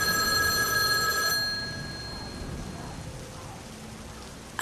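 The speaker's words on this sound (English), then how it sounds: "That's when the phone rang." Telephone ringing as a sound effect in a scary story, a single bright electronic ring for about a second over steady rain noise, then only the rain continues.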